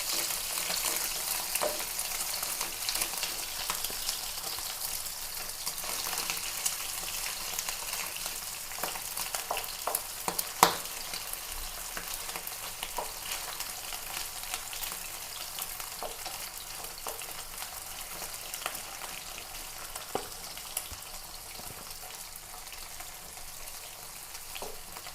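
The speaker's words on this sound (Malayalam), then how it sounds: "രണ്ട് ട്രിപ്പായിട്ട് മുരിച്ചെടുക്കുക. അധികം മുരി ഉണ്ടാവും ഓവറായിട്ട്. ഇതിൻ്റെ വെള്ളം വറ്റണം" Beef pieces for beef vindaloo fry in a pan with a steady, close sizzle and occasional louder crackles and stirring scrapes, with no voices.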